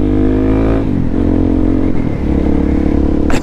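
A Suzuki DRZ400 dual-sport motorcycle fitted with an aftermarket exhaust, 3x3 mod and jet kit accelerates in gear, its engine note loud and close, rising and shifting pitch through a steady throaty drone.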